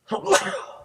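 A single short sneeze-like burst, close and fairly loud, lasting under a second.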